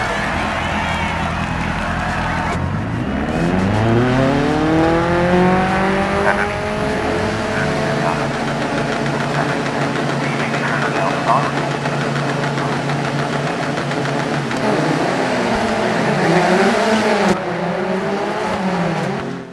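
Peugeot 205 rally cars race in the video game DiRT 4, engines howling and revving through repeated gear shifts and rising pitch, loud and close, with someone commentating in French over them.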